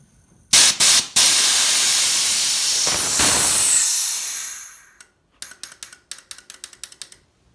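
A loud, sustained spraying hiss of about four seconds as fuel sprays from a leaking purge after a few short bursts, then a quick series of sharp mechanical clicks.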